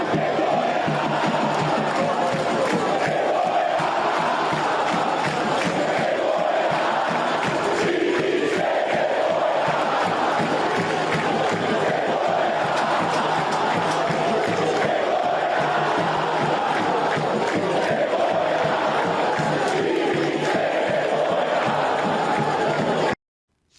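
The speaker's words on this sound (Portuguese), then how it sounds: "a torcida que protesta com gritos de time sem vergonha" Santos football fans in a stadium chant protests together, a loud, sustained crowd of rhythmic shouted chants swelling and falling in waves for over twenty seconds before stopping abruptly.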